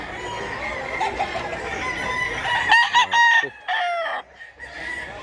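A rooster crows at a farm in Mantalongon, Barili, Cebu, one long crow with repeated phrases standing out over a background of other fowl clucking and faint voices, fairly close and loud.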